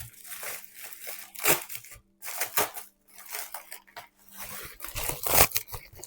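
Packaging for a UGREEN 360° tripod being opened, with repeated crinkling, tearing and snipping bursts separated by short pauses, close and moderately loud, no talk.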